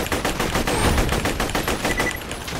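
Rapid automatic gunfire from the shooter game Borderlands 2 rattles in a fast, loud, continuous burst with barely any gap between shots.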